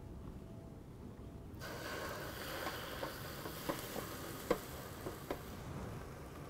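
Pork intestines sizzling on a grill, a soft steady crackle with scattered small pops and ticks, faint and close, starting abruptly after a quiet moment.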